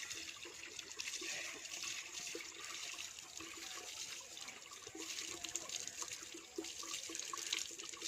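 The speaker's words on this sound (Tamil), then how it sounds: "இது போர் தண்ணி தான்" Borewell water pours and splashes steadily in a rural outdoor setting, a continuous hissing rush at moderate distance with no talk.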